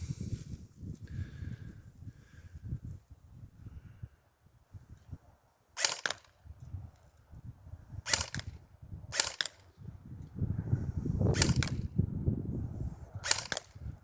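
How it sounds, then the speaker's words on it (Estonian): Five sharp airsoft gun shots at a shooting range go off at irregular intervals over quiet low rumbling and rustling, each a short crisp crack. "5 lasku tehtud"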